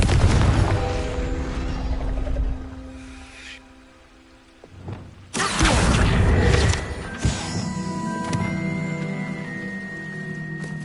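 A Confringo blast spell explodes in Hogwarts Legacy with a loud booming burst that rumbles and crackles, followed by lingering magical effects and a second bright impact, set against ambient game music.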